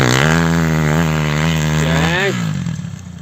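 A motocross motorcycle runs close by on an amateur dirt track, its engine holding a loud steady buzz before the pitch swoops and fades as it pulls away.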